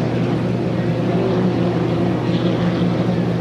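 A racing hydroplane with a 1.5-litre engine roaring through the last turn of the final at a Beauharnois regatta, a loud, steady droning whine that holds without a break.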